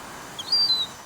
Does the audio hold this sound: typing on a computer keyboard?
no